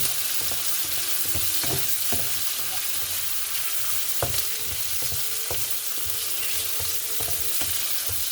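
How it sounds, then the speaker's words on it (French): Panisses and herbes de Provence fry in a pan with a steady, loud sizzling hiss, punctuated by occasional scraping and tapping of a utensil stirring them; no talk. "Voilà, donc là maintenant ça cuit."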